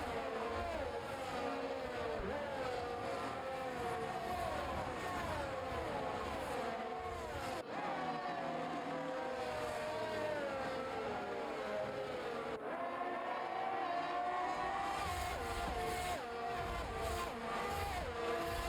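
Race cars at a Bahrain circuit scream past, several engines whining and sweeping up and down in pitch as they accelerate and shift, a continuous layered roar from trackside with no talk.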